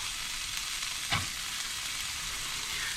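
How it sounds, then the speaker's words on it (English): Onions sizzling in rendered fat as they are stirred in for a Lithuanian potato cake, a close, steady frying hiss with one brief scrape of stirring midway. "I'm going to start to stir in the onions."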